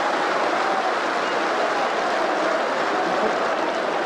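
Football crowd at a Tottenham v Oldham Athletic match applauding a passing move, a dense continuous wash of clapping and stadium noise, loud and sustained throughout.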